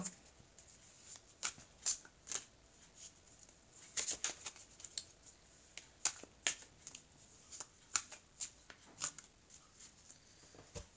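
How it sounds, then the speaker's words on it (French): A deck of tarot cards is shuffled by hand, making soft, irregular riffling and slapping bursts that come close up but quietly, with short pauses between them and no talking. "je vais bien mélanger les cartes."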